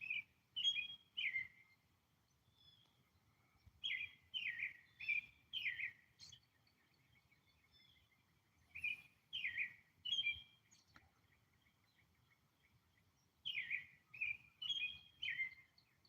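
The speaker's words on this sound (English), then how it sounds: "that's morning bird song now" Morning bird song during an eclipse: clear, fairly distant chirps and whistled phrases come in several bursts separated by quiet pauses against a soft low background hum, with no talking.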